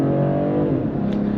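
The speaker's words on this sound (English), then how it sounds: "Really love to hear that inline six and the turbos kicked in and everything." The inline six turbo engine of a 2022 BMW M340i xDrive sedan accelerates, a smooth rising harmonic drone heard from inside the cabin, loud and steady without talk.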